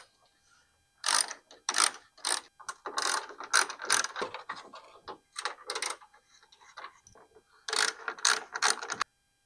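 A hand ratchet loosens 10mm bolts across the top of a Silverado 1500 grille, coming in quick bursts of sharp clicking separated by short pauses, close and alone.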